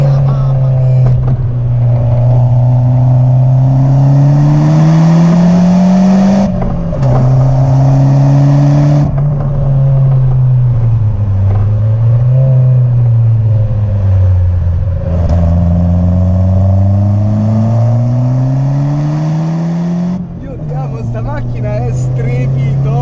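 A Lancia Delta HF Integrale Evoluzione rally car engine growls and revs up and down through the gears on the move, loud and close inside the cabin, with someone talking over it.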